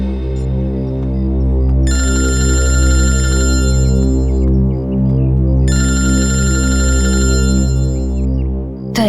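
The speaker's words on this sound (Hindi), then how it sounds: "दया सर का फोन?" A telephone bell rings in two long bursts of bright, rapid metallic trilling separated by a pause, loud and close over a steady low hum, with no talking.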